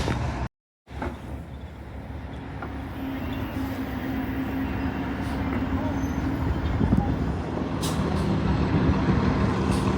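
An NJ Transit bus idles and hums in street traffic on 40th Street in New York City, with a steady low rumble, a brief hiss of air brakes, and faint voices in the background.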